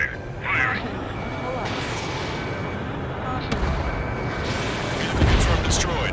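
Ace Combat 7 jet combat: a missile launches and a ground vehicle is blown up, with a dense roaring rush punctuated by sharp blasts and a late heavy boom, while radio voices talk over the action.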